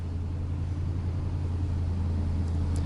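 Pride Mobility Jazzy 1103 Ultra power wheelchair rolling on its slowest speed setting, giving a steady low motor hum close by with no variation.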